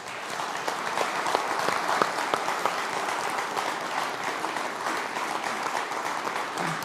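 Audience applause for the panel members at the Northern Research Group Conference 2023, a dense, steady clapping from a sizeable crowd that holds at an even level throughout, with no speech over it.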